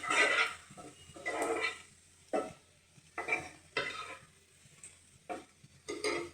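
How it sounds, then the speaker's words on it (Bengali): Onions browning with lentils in a pan, stirred in a series of distinct scraping strokes with short pauses between them, over a faint, steady sizzle that stays close by. "পেঁয়াজটা লাল লাল হয়ে আসছে, এখনই ডালটা দিয়ে দেবে"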